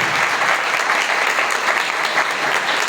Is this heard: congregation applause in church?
yes